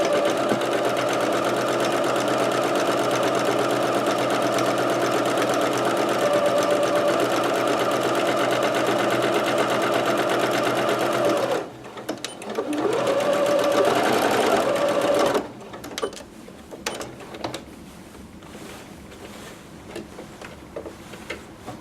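A home sewing machine stitching a straight dress seam with a short backstitch, a loud steady whirring run for about twelve seconds, a brief pause, another short burst, then scattered clicks and handling noises.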